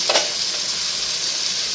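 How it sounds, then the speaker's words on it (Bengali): Bitter gourd frying in oil in a pan, a steady close hiss of sizzling with a brief stirring scrape at the start, no voices. "আগে তিতা করলাটা ভাজা নিই"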